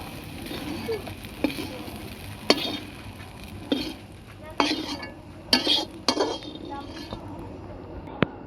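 Onions frying in a little oil in a wok, with a faint, steady sizzle broken by sharp clinks and scrapes of a spoon stirring against the metal, and a person talking nearby.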